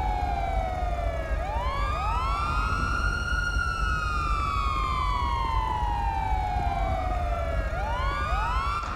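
A police car siren wails loud and near, its pitch sweeping slowly up and down in a continuous rise-and-fall cycle with no talk over it.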